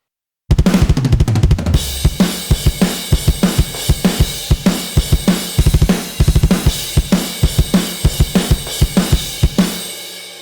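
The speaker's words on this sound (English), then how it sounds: "this is the sound of the kit without any processing in my DAW" A full drum kit from Superior Drummer software, heard without processing, plays a steady beat with punchy kick and snare hits and washy cymbals, dry and close, with no voices.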